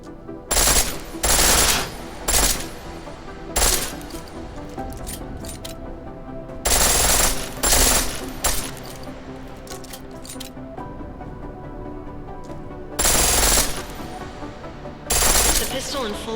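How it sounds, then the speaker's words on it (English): A pistol fires in full auto in Deus Ex Mankind Divided, in several sharp, loud bursts of rapid shots separated by short pauses, with quieter game sounds between the bursts. "The pistol in full auto will take down targets fast, but it'll burn through your ammo"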